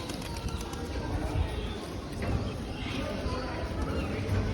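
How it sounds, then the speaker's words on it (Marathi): Birds calling and cooing around an aviary beside a lake, heard from a bridge over the water, a busy continuous chorus at moderate distance with people talking nearby. "इथे पक्ष्यांचा खूप किलबिलाट ऐकू येतोय"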